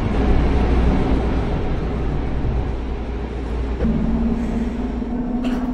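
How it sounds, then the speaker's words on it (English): An airport transit train in Westwood pulls away from the station, a steady low rumble of wheels and motors with a rising whine that climbs as it gathers speed, loud and continuous throughout. "Please hold on, we are leaving the station."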